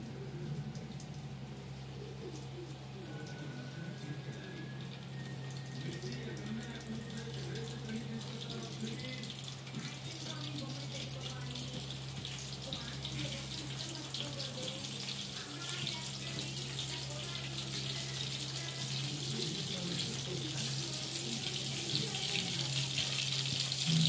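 Brinjals for a Guntur-style stuffed eggplant curry fry in hot oil, giving a soft, continuous hiss that slowly builds over about twenty-four seconds, faint and close.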